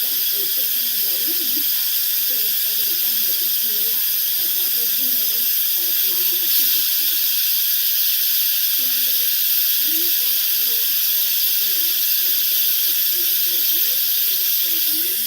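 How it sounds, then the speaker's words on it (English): Steam venting with a loud, constant hiss that runs unbroken throughout, while a voice talks underneath at a lower level. "I'm letting the steam out so that I can show you guys what I'm doing in there."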